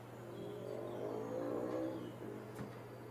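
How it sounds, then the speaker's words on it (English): Valentino Rossi's racing motorcycle revs during a practice session, a faint, distant engine swell that rises and fades over a low steady background hum. "Good sounding engine."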